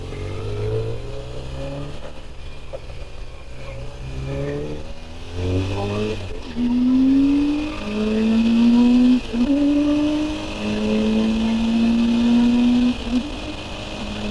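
A 2000 BMW R1100RS motorcycle engine hums steadily while riding, its tone stepping down through gear changes as the bike slows toward a stop, close and fairly loud with wind noise.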